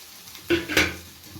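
A spoon scrapes and stirs through grated coconut mixed into fried fenugreek leaves and egg in a pan, two short clinking strokes over a faint background sizzle.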